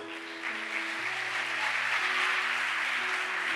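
A church congregation applauds during a celebration service, a steady wash of clapping that fills the room for several seconds while a sustained musical tone continues underneath.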